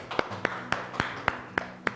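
Children in an English class clap their hands together in a steady rhythm, sharp claps at roughly quarter-second intervals, moderately loud with faint room tone beneath.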